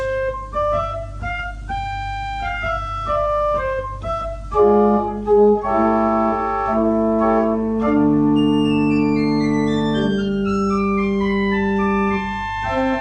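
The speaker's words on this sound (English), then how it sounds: "And finally on the grate we have a 4-foot" Pipe organ playing a 4-foot octave stop, a principal-type tone that starts with quick detached notes and then builds into held chords and rising lines, moderately loud and unaccompanied.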